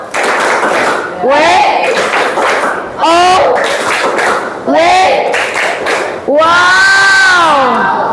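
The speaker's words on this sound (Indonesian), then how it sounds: "Kita kasih tepuk wow." A school group audience does the 'tepuk wow' routine, clapping in a pattern while many voices shout a drawn-out 'wow' in unison, in several loud bursts with cheering over about eight seconds.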